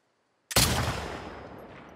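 A single gunshot fired in The Last of Us II, an abrupt loud crack that fades into a long echoing tail.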